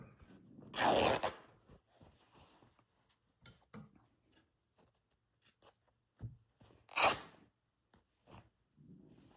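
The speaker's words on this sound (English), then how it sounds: "Just going to snip it and rip it." Fabric being snipped with scissors and ripped by hand while making a slow-stitched zipper pouch, with two loud tearing rips separated by small quiet snips and rustles, close up.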